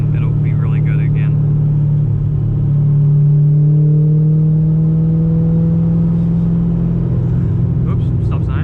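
A C5 Z06 Corvette drones while driving, a loud steady low engine and exhaust hum that rises gently in pitch, with a person talking briefly at the start and end.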